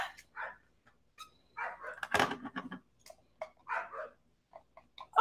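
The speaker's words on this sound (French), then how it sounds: "Un chien qui jappe jamais, puis là, aujourd'hui, elle jappe." A dog that normally never barks lets out a loud cluster of barks near the middle, with a few shorter yips and whimpers before and after, heard indoors in a home kitchen during cooking.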